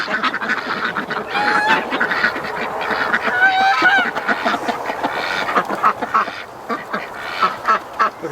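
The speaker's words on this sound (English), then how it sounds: "The Muscovies are flying and tormenting the crap out of Doug" A noisy flock of Muscovy ducks honks and quacks continuously, many birds calling over one another at close range with steady, overlapping chatter.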